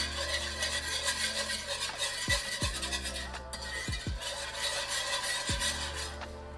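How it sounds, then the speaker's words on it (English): A whisk scraping and stirring around a pan while smothered pork chops are being made, with steady swishing, a few sharp clinks against the metal, and soft sizzling beneath. "So we're gonna whisk for a minute."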